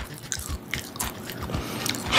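Someone bites and chews crunchy fried soft-shell crab up close, with a series of crisp crackling bites and moist chewing spread across a couple of seconds and no talking.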